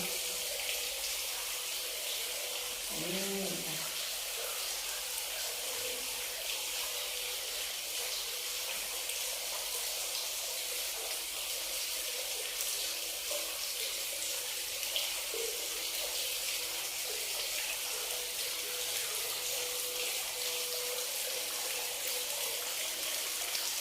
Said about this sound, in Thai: เสียงน้ำตกอาจจะเสียงดังไปนิดนึง